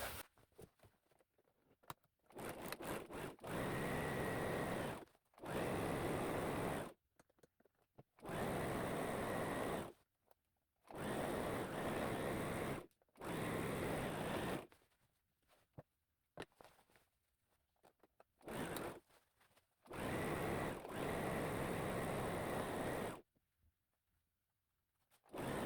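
A sewing machine stitches the side seams of a pair of shorts in repeated loud, steady motor bursts of a few seconds each, separated by short quiet pauses, with no voices.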